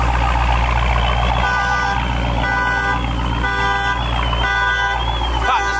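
Car alarm chirping in repeating bursts at a garage where new rims are fitted to a Superstock car and a Hellcat, loud over a steady engine or machinery drone with no talk.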